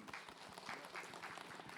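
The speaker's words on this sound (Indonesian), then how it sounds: "Boleh tepuk tangan dulu yuk." An audience at an Islamic religious talk show claps in a brief, fairly distant round of applause, a steady patter of many hands with no voices over it.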